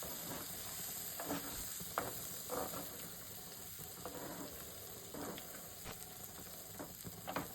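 Chicken pieces fry with curry leaves and coriander in a home kitchen pan, a steady sizzle under repeated scraping stirs that come every second or so, close and moderately quiet.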